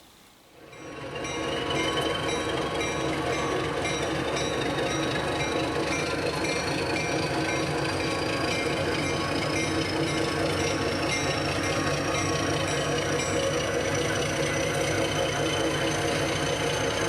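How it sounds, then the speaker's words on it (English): HO scale model passenger train on an Erie Lackawanna layout near Binghamton, pulling away with a steady mechanical whir and faint rail rumble that starts abruptly and holds evenly close by. "Here you can see a little passenger service leaving the outskirts of Binghamton, heading south."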